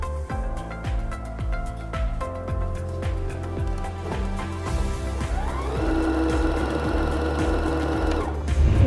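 A domestic sewing machine stitches fabric for Christmas dog clothing, its needle mechanism chattering in a steady, rapid rhythm close by, with a brief change in pitch and pace toward the end.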